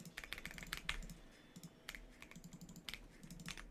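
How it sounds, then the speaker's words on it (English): Fast, uneven typing on a computer keyboard, a dense run of close, crisp key clicks in short bursts with brief pauses, recorded during a live stream with no speech. "Also probably typing."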